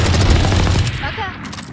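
Gunfire in the video game Valorant, a loud close burst of heavy shots followed by fading rattles and a brief game effect.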